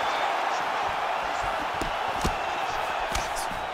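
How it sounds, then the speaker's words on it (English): An arena crowd roars in EA Sports UFC 5 as fighters trade heavy strikes, with a steady loud wash of crowd noise punctuated by sharp impact thuds. "you hear the crowd react every time they come together"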